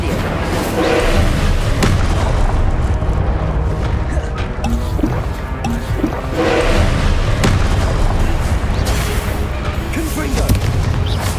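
Repeated Confringo explosive spells cast in the video game Hogwarts Legacy, a series of loud booming thuds and blasts over a dense, continuous roar of combat noise, with a few recurring bursts across the stretch.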